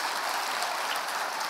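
Church congregation applauding during a Sunday worship service, a steady dense wash of hand claps sustained evenly throughout with no speech over it.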